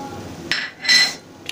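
A spoon stirs a cauliflower filling with green chili and chopped coriander in a pan, giving a few short metallic clinks and scrapes up close, with quiet gaps between them.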